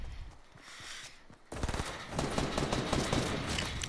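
Rapid bursts of gunfire from the Fortnite video game crackle in dense volleys, starting faint and growing louder partway through, with no talk.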